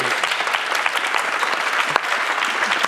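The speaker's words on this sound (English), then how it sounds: "Please give them a round of applause." Steady, dense audience applause at a community forum on housing the homeless, continuous clapping from a crowd with no break.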